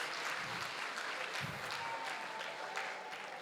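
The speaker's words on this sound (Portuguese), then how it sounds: "Pode aplaudir, irmão. Aplaude o que Deus faz." A church congregation at a harvest service applauds, a dense, steady wash of clapping hands filling the room at even loudness throughout, with faint voices mixed underneath.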